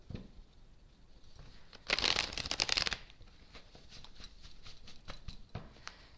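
Tarot cards being shuffled up close: a soft riffle of card edges builds into a dense, loud burst of flapping cards lasting about a second, followed by quieter handling, tapping and sliding.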